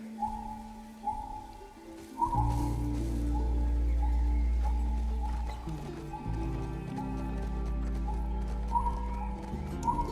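Joel's horse in The Last of Us Part II, at dusk in a fortified settlement: steady clip-clop of hooves under a continuous low rumble, with faint rain and an occasional soft whinny.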